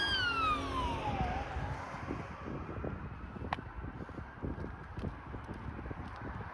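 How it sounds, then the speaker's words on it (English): A police car siren wails close by on a busy stretch of Highway 27 in Etobicoke, Toronto, its pitch sweeping down and fading as it passes, then giving way to traffic rumble and wind. "we've got a police car responding, and I have to yell over the siren"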